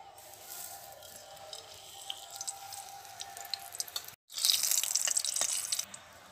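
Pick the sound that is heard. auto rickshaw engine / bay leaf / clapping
bay leaf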